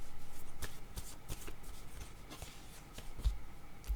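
Word cards are shuffled with repeated quick riffling flutters in short bursts, close and fairly quiet, with no talking over them.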